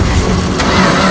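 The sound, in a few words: car engine struggling to start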